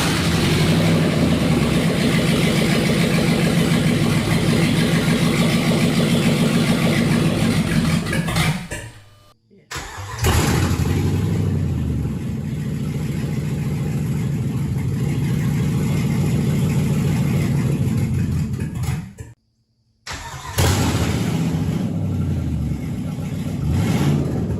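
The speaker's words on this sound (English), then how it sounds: "Now that the engine's running" A Jeep XJ with a swapped-in 5.7 Hemi V8 runs loud and close, its engine idling and revving steadily with two brief cutouts where it drops off before catching again, with speech mixed in.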